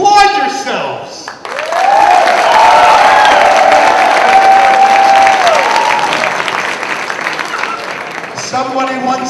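A large crowd at a yeshiva gathering bursts into loud applause and cheering, swelling quickly and holding steady, with a voice rising briefly over the noise before it fades and talk resumes.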